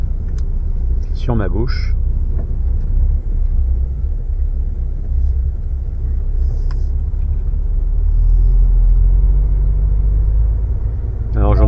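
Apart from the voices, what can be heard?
truck engine driving off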